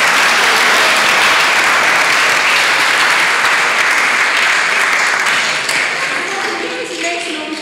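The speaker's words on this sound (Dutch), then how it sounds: "Mag ik nog een hartelijk applaus voor Brechtje?" Sustained audience applause fills a Rotterdam church during a cabaret evening, loud and dense throughout before thinning slightly near the end.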